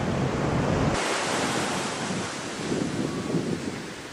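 Ocean waves wash onto a sandy beach in a steady, loud roar of surf, mixed with gusty wind noise on the microphone and no voices.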